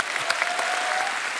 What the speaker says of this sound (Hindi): इस बात के लिए तालियां बनती हैं।